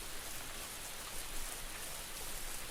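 Rain pours down in a steady, dense hiss, an unbroken close wash of falling drops with no voices.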